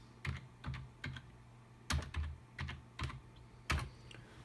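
Keys on a computer keyboard tapped in short bursts of several clicks each, with brief pauses between them, close and fairly quiet with no voices.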